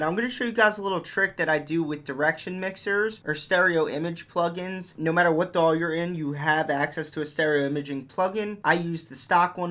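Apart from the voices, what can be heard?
No everyday noise stands out behind the speech.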